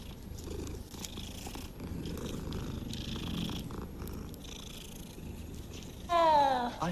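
A cat purrs in Hogwarts Legacy, a low steady rumble running under game ambience and music for most of the stretch, then a short louder meow-like cry near the end.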